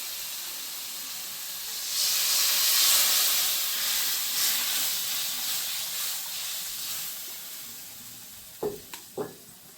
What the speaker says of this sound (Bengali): মশলাটা সুন্দর করে কষানো হয়ে গেছে, এখন দিয়ে দেবো আমি গরম জল।